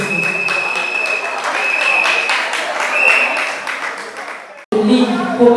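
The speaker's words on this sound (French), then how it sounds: "Est-ce qu'on peut applaudir pour le groupe?" An audience applauds at a pageant event, a dense, sustained wash of clapping that stays loud for several seconds, with a voice over it and a brief cut near the end.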